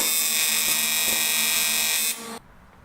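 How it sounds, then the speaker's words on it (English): A welder tack welds a custom sheet-metal air box panel for an R33 Skyline, giving a loud continuous buzzing hiss up close that cuts off sharply near the end. "now I'm going to go ahead and tack weld this together"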